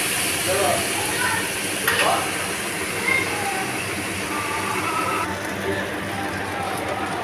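Jackfruit and shrimp curry with a splash of water frying in a pan, giving a steady hiss and sizzle that runs throughout with a few soft clatters.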